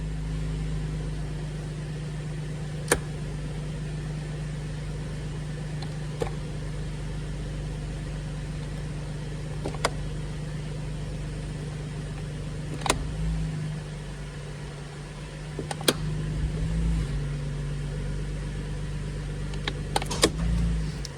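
Holden Commodore VE idling while the gears are worked through, with a torque converter clutch fault: a steady low engine drone with occasional faint clicks and knocks from the shifter, fairly close.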